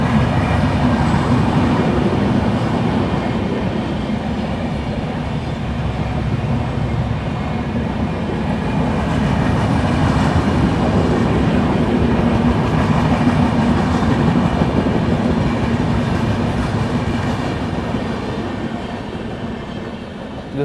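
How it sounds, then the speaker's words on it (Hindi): Meerut City–Subedarganj Sangam Express passing close by at Aligarh, a continuous loud rumble of coaches and wheels on rails rolling steadily for the whole stretch. "दोस्तों वहाँ से जो आप लोग ट्रेन आते हुए देख रहे हैं वो आ रही है आप लोगों की मेरठ सिटी सूबेदारगंज संगम एक्सप्रेस"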